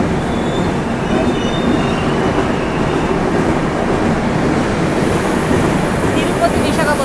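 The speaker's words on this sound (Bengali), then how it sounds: "দোতলা ট্রেন দেখো।" A double-decker train passes nearby with a continuous loud roar and rushing wheel noise that holds steady for several seconds.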